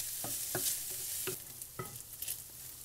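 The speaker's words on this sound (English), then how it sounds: "I just want to fry them a bit" Leeks sizzle steadily in a hot pan, and a utensil stirs and scrapes through them in several separate strokes. The sound is soft and close, with no voices.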